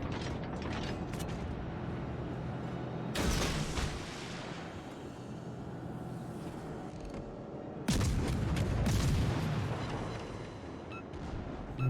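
Warship main guns fire in World of Warships: two heavy booming salvos several seconds apart, each with a deep rolling blast over constant mechanical engine rumble and creaking.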